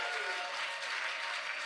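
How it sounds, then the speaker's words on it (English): An audience claps together in a room, a dense steady burst of applause that stays even in level for a moment. "can we get a round of applause or a drum roll?"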